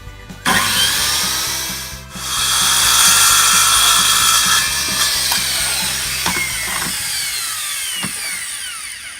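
A power drill drives 5mm hex-head screws into treated pine for a garden box. The steady, loud motor whine sweeps upward in pitch as it works, with a brief dip early on before the close, continuous grinding resumes.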